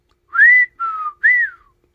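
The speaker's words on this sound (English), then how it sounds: "Gets the whistle." A person whistles a short three-note tune, a rising note, a falling note, then a rising-and-falling note, clear and close against silence.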